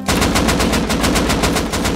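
Rapid automatic gunfire in the survival game Rust: a loud, close burst of evenly spaced shots fired in quick succession, with no talking.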